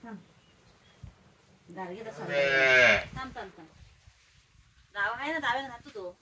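A young calf lets out two drawn-out moos, the first long and loud, the second shorter, with quiet background between them.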